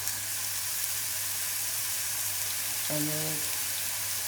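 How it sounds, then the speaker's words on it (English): Hamburger-style patties for Salisbury steak sizzle and crackle steadily in hot oil in a frying pan, a constant broadband hiss throughout, with a brief faint voice near the end. "And now we're going to go in with our patties. We'll just do that. Nice sizzle."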